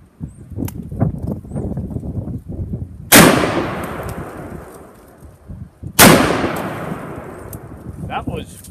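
A Smith & Wesson 500 revolver fires two loud, sharp shots about three seconds apart, each with a long ringing decay, after a stretch of voices and handling noise.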